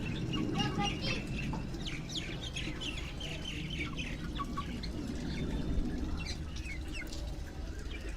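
A rooster squawks and clucks amid a noisy yard full of birds chirping and calling, with steady background noise throughout.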